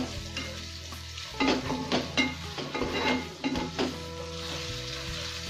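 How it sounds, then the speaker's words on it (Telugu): Brinjal pieces frying lightly in oil in a pan for a brinjal fish curry, with busy close stirring and clinks of a spoon against the pan over a low sizzle; no talk. "వంకాయలు కూడా ఆయిల్లోనే కొంచెం ఫ్రై చేసుకోవాలి, లేకపోతే పచ్చి వాసన వస్తాయి. అందుకోసం లైట్గా ఫ్రై చేస్తున్నాను"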